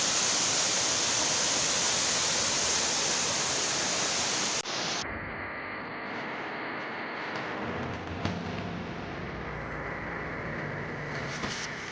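Lambingan Falls pours in a steady, dense roar of rushing water. The roar is loud and close for the first few seconds, then continues slightly duller and more muffled, with no voices.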